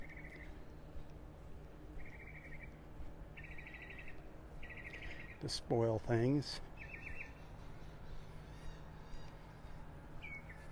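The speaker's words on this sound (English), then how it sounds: "There's some birds." Small birds chirp in short repeated bursts at Vanderbilt Beach in North Naples, Florida, among sea grape trees, with one louder nearby call in the middle, over quiet outdoor background and a brief spoken comment.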